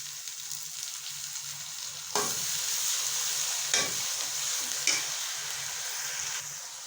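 Chopped tomatoes and green chillies frying in a pan for egg masala: steady close sizzle that swells after the vegetables go in, broken by a few scraping stirs of a spoon, with no talking.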